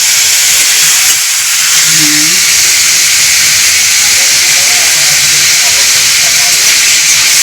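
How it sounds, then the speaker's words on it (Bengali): Shrimp fry loudly in a pan for a Bengali prawn dish, a strong continuous hiss throughout, with faint voices briefly audible under the sizzle. "চিংড়ি ভাজা হচ্ছে এখানে"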